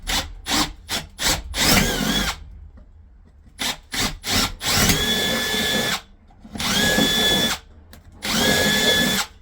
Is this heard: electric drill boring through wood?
yes